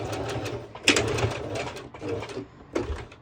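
A sewing machine runs a straight stitch joining two pieces of swimsuit fabric, its motor whirring steadily in close, uneven bursts with short pauses between runs.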